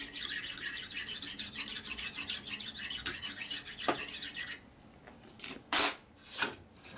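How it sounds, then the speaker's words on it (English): A fine dull file scraped across metal surfaces on a flywheel balancing stand, rapid rhythmic rasping strokes close up for several seconds, then stopping, followed by a couple of short clanks. "Take a fine dull file, basically doesn't want to do anything. You run across the surfaces."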